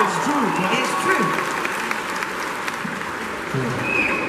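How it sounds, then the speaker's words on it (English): Audience applause at a comic con panel, a dense wash of clapping from a large crowd, steady and fairly loud, with some speech-like sounds mixed in. "Can we get a round of applause for that answer?"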